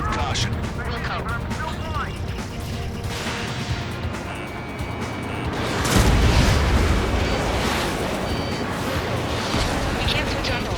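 A big explosion in the combat flight game Ace Combat 7, a deep rumbling boom swelling midway over ongoing jet and battle noise, with radio voices talking throughout.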